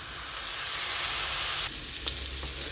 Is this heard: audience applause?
no